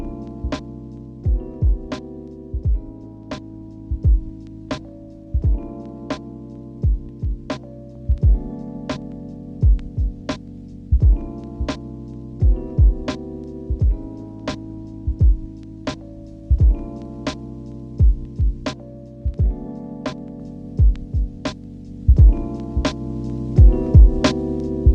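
A drum beat run through an Elektron Analog Heat Mk2 on its clean boost setting, with punchy kicks and snappy hits repeating in a steady loop over sustained warm tones, loud and continuous without talk.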